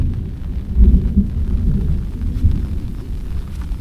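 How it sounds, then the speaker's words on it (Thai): Low, rolling thunder rumbling at a distance, with heavier booming swells near the start and softer grumbling after, against a steady background hiss. "ยินเสียงฟ้าร้อง"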